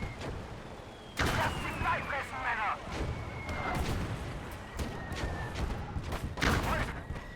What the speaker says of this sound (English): Oh, mortars are firing.